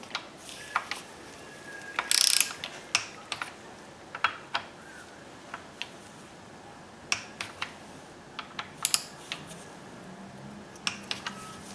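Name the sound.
torque wrench ratcheting to 10 Nm on Nissan Sentra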